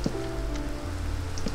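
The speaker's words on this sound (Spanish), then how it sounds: "a ver si me puedo ocultar un poquito de la lluvia" Rain falls steadily in the video game Minecraft, a continuous close patter with soft game tones and clicks mixed in, and no talk over it.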